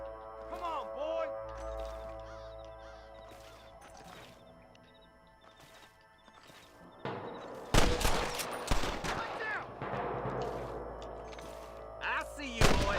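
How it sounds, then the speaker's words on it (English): Gunfire from the Western video game Red Dead Redemption: several sharp broadband shots and bursts, loud and close, break out in the second half over game music and ambience, with shouted voices mixed in. "I can hear more gunshots."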